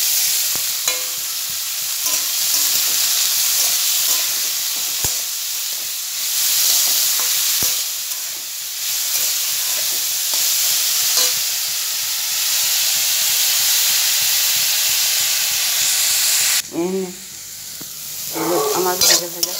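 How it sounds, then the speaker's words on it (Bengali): Vegetables sizzle in oil in a wok and are stirred, a continuous close frying hiss broken by scraping and knocks of a spatula, ending with a brief burst of other household sounds. "এবার আমি কড়াই সবজিগুলো দেব,"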